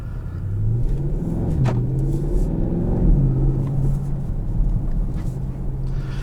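A 2018 Porsche Panamera Turbo Executive with 550 horsepower drives in sport mode, giving a steady, loud engine rumble from inside the cabin with a deep drone that rises and falls slightly in pitch, and no talking.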